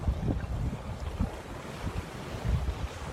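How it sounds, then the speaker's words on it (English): Ocean waves on a Maui beach, a low rumbling wash of surf with repeated soft surges, mixed with gusty wind buffeting the microphone, and no voices. "As the waves come crashing in, just let it wash over you."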